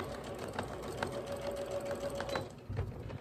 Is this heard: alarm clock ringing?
no